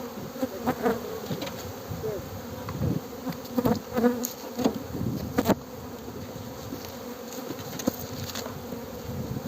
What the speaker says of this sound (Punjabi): ਮੱਖੀ ਦੀ ਵਾਪਸੀ ਪਾਉਂਦੇ ਹੋਏ